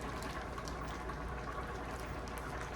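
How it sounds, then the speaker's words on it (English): Green beans cooking in a pot with cut-up bacon pieces, a soft steady bubbling and sizzling simmer, faint and close, with no talk. "I'm gonna cook the green beans in the same pot as I did the bacon."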